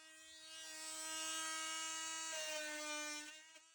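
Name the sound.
Parkside oscillating multi-tool cutting drywall at max setting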